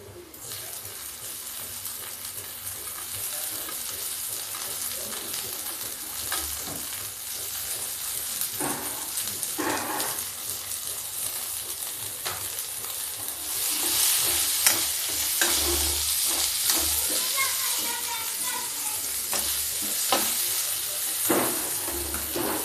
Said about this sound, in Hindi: देखिए आलू मेरी फ्राई हो रही है।